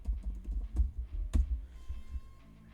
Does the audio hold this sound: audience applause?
no